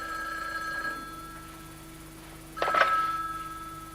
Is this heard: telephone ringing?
yes